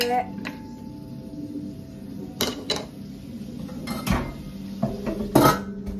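A utensil knocks and scrapes against a pan while sautéing, with several loud metallic clanks and clinks over a low background, spaced irregularly across the stretch, and a voice speaks softly underneath.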